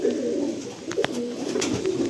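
Domestic pigeons kept as paired birds in a home loft coo close by in a steady, overlapping rumble, with a few sharper bursts standing out over the continuous cooing.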